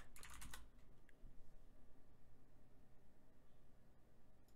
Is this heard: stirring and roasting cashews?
no